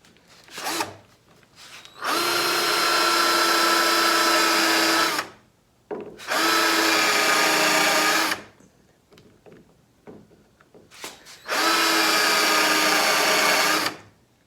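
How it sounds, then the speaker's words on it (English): A power drill countersinking holes in pallet wood whirs in three sustained bursts of about three seconds each, close and loud, with short pauses and small clicks and knocks between them. "Now we'll countersink these holes."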